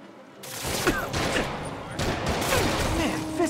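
Gunfire in the Marvel's Spider-Man video game during the Kingpin boss fight, a rapid fusillade of shots under busy combat noise and a voice, continuous over a few seconds.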